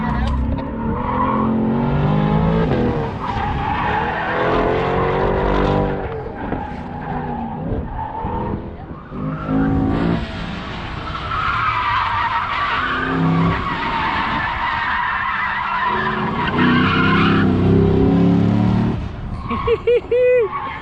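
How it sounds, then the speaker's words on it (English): A Tesla driven hard on an autocross course, its tires squealing and skidding almost continuously through the corners, loud and close, with excited passengers shouting over the noise. "This Tesla is insane. Flying through this track."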